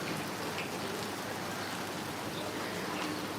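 Heavy rain pours down in a dense, unbroken roar of drops, loud and close, with no voices.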